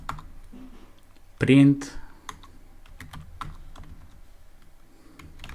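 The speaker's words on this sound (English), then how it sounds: "I'm gonna type while true" Python code is typed on a computer keyboard: scattered close key taps and clicks spread across the stretch, with a brief spoken word partway through.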